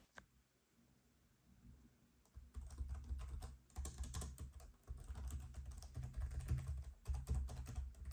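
Rapid typing on an ASUS ROG Strix G16 laptop keyboard, close and crisp, a steady stream of soft key clicks after a quiet start.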